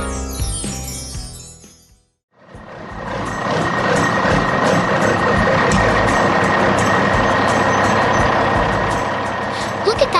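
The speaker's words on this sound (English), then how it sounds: "Look at that mighty orange dump truck, working hard in the heart of the city." An animated orange dump truck hauling stones in a city tunnel build; after a short tonal passage and a brief gap, a loud continuous engine rumble with repeated reversing beeps carries on to the end.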